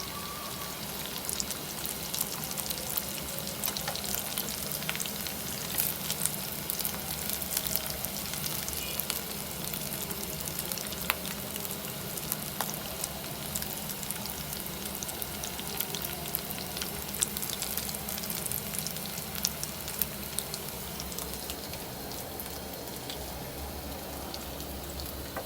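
Potato sticks deep-frying in hot oil, with a dense, even crackling sizzle like rain that holds steady and close throughout, dotted with brief sharper pops.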